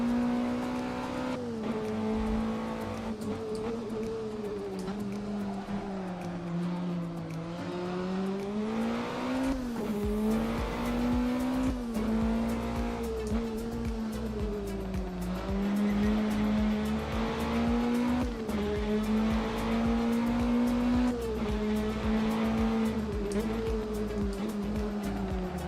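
A Caterham race car in a sim racing video game drones steadily close up, its engine note rising and falling through gear changes with tire squeal mixed in, continuous and without pause.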